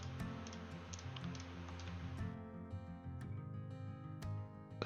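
Keyboard and mouse clicks sound while Shift is held during 3D modelling work, sparse soft ticks scattered over a faint background hum, with no talking.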